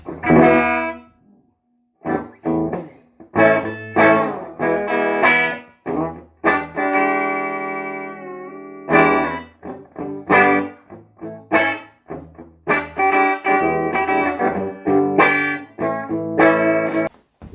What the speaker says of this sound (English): Get the distortion going. A distortion pedal.